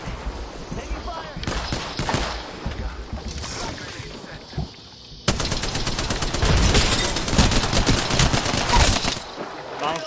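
Gunfire from the battle royale game Apex Legends: scattered rapid shots, then a loud sustained burst of automatic fire after a brief lull, with players talking over the action.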